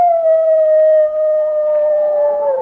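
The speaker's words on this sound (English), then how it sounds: "Wolves." Wolves howl in one long, smooth, mournful tone that holds steady and slowly sags in pitch near the end. It is loud and clear against a quiet background, with no talking.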